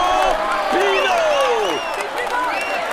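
A roadside crowd at a Tour de France stage to Valence applauds and cheers a passing FDJ cyclist, a loud, dense stretch of clapping and whoops with a commentator talking over it.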